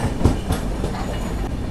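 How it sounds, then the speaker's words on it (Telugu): A Tatanagar–Ernakulam Express pulls into platform 1 at Gudur Junction, giving a steady, close rolling rumble with wheel clatter and a few louder knocks early on. "సో గూడూరు జంక్షన్కి మన ట్రైన్ వచ్చేసి ప్లాట్ఫామ్ 1కి అయితే వచ్చింది."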